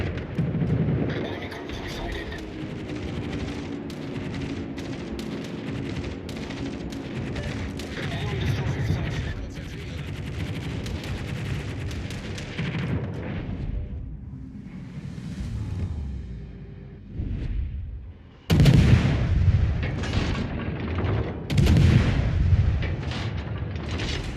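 Naval gunfire in the World of Warships Legends game, with rolling booms and rumbling shell blasts over steady battle ambience, then a sudden louder burst of heavy firing near the end; a voice talks over it at times.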